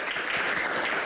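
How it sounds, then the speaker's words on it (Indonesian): Studio audience applause at a Q&A stage event with university students present, a brief, loud, steady burst of many hands clapping close by. "Kita berikan tepuk tangan yang paling meriah"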